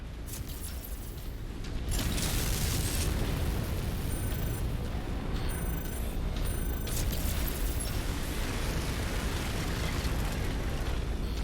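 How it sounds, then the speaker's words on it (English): Buildings being destroyed in MechWarrior 5, a sustained roar of explosions and crumbling debris that swells after a quieter start and stays dense and loud throughout, with no talking. "I'm blowing stuff up."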